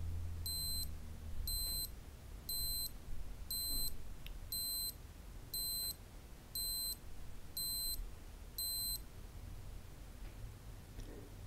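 A thin, high digital beep from a Casio G-Shock GX-56-1 watch alarm sounds in quick pairs, nine regular bursts spaced about a second apart, over a quiet background hiss.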